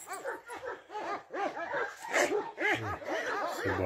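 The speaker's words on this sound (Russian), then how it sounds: "Собаки вдоль посадки" Several dogs barking along a rural tree line, with yelps and short barks overlapping in a busy, continuous stretch at moderate distance.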